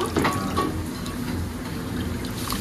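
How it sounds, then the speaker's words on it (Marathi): An older woman drains water from fish for a coastal Malvani wedding meal, giving a steady, continuous splashing and trickling of liquid close by for the whole stretch. "आजी माशातलं पाणी काढतीये सगळं"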